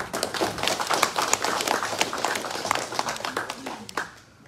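An indoor audience at a championship media day applauds for players and coaches, a steady patter of many hands clapping at close to mid distance that tails off toward the end.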